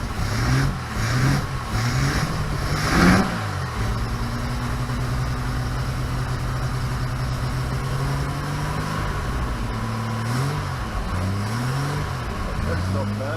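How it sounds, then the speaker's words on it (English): A restored car's six-cylinder engine revs repeatedly to about 2000 RPM, rising and falling in smooth swells over a steady idle, heard up close with someone talking over parts of it. "I'm only revving to 2000 RPM."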